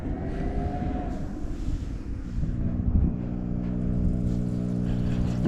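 Battery-powered air pump bubbling water in a VEVOR DWC hydroponics system on an off-grid homestead: a steady, close motor hum under a continuous rushing, windy noise with no voices.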